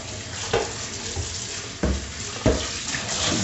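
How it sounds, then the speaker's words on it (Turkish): Hot water splashes and rinses inside a plastic fermentation bucket, a steady watery wash with a few sharper sloshes and knocks, close and loud with no talk. "Şimdi ilk dip tortuyu bir akıtıyorum."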